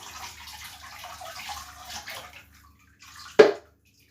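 Liquid glossy transparent glaze is poured over a ceramic object, giving a soft continuous splashing pour that stops. After a short pause comes a sharp brief splash near the end.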